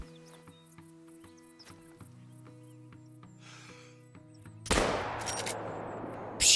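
A single heavy 10 gauge shotgun blast fired at a broadside buck in the hunting game Call of the Wild booms out loud over quiet ambient tones and decays, with a second sharp burst starting right at the end.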